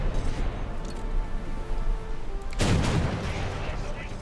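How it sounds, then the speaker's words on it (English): A heavy ship cannon boom in the video game War Thunder bursts out midway, rumbling loudly over a dense, continuous background of naval battle noise and music. "Fire one. Come on, reload the cannons"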